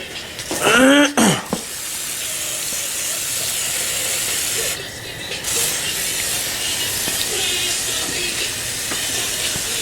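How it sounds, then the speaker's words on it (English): A long, steady hiss of aerosol silicone spray coating a Corvair engine runs for several seconds, briefly pausing once, after a short squeaky clatter at the start. "Literally all I'm going to do is just spray the whole thing with this spray silicone."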